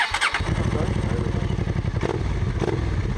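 A flooded Honda motorcycle engine catches and settles into a steady, loud idle with a rapid throbbing beat and some clatter, heard up close.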